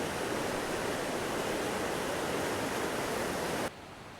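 Vista Creek flowing beside a backcountry campsite in North Cascades National Park, a steady broadband rush of water that fills the clip without pause, then drops abruptly to a quieter hiss just before the end.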